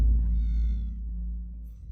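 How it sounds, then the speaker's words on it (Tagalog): A cat lets out a single drawn-out meow late at night, close and fairly loud, rising then fading over a low background rumble. "Sisi, Tay, pusa lang pala yan."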